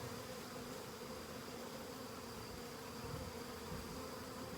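A swarm of bees gives a steady, low, continuous buzz with a faint background hiss and no voices.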